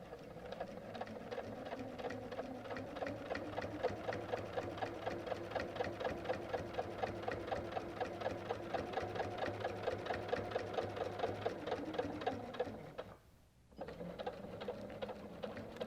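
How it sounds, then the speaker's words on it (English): A sewing machine runs in a fast, steady mechanical patter while stitching in the ditch along a flower block of a quilt border, continuing evenly for a long stretch with one brief pause near the end. "So I'm stitching my way down"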